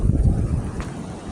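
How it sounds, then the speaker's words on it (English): Gusty wind buffets the microphone outdoors as high winds die down, a steady low rumble across the whole short stretch with no one talking. "it's still windy, but it's died down a whole lot."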